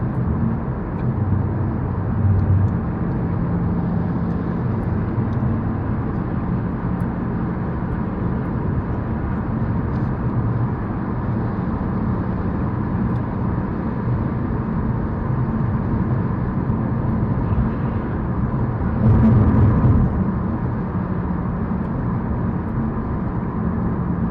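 Road traffic heard from inside a moving vehicle as traffic slows, a steady low rumble of engine and tyre noise with a slight swell near the end, no talk.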